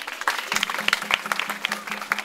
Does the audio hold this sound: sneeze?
no